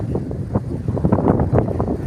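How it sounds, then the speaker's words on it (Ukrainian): Strong, cold wind buffets the microphone outdoors in Italy, producing a continuous low rumbling roar with gusty surges throughout. "Бачите, який вітер."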